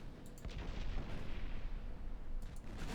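Warship main guns fire in the naval game Ultimate Admiral: Dreadnoughts, with several heavy booms and rumbling blasts spread over a few seconds, moderately loud and somewhat distant.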